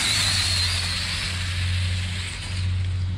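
An RC drag car with a high electric whine runs a no-prep drag strip pass, producing a steady, loud broadband roar throughout with a faint low hum underneath.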